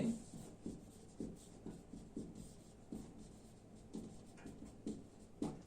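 Someone writes an equation on a board in a physics classroom: quiet, rhythmic strokes and taps recur roughly every half second to a second against a faint room hum, with no voices.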